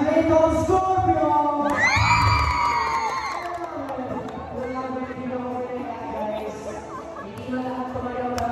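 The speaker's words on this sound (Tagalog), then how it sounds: "Hindi na lahat tumayo pero napakasolid lang sigawan." Grade 12 students in a school gym erupt in loud cheering, whooping and shouting, a sustained crowd roar peaking early and then settling into continued yelling, with voices talking over it.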